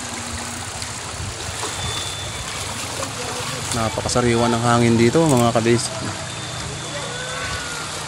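River water at Puray Falls in Rodriguez, Rizal flows in a steady close rush throughout, with someone speaking briefly over it midway.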